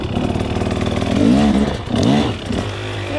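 A motorcycle on Dunlop EN91EX tyres revs hard in first gear while its rear wheel spins on wet ground. The engine note climbs and falls in two close, loud bursts over a steady idle-like drone.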